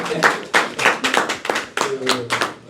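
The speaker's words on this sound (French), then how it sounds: "On les applaudit." An audience at a year-end Christmas party claps in bursts of sharp, close hand claps, a lively uneven patter with a voice briefly heard among them.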